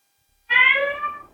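A cat living in a mountain bookshop gives a single clear, close meow. It rises sharply and then fades over about a second, with silence before it.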